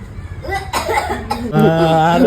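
A single cough rises among voices, with people talking before and after it, close by and fairly loud.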